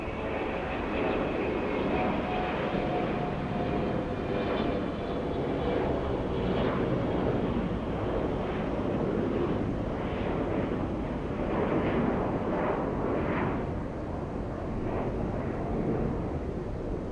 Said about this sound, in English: let's go for the 717 takeoff